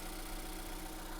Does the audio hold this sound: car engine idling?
yes